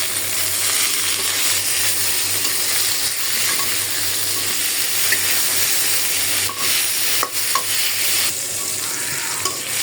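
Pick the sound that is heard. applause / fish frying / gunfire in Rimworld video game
fish frying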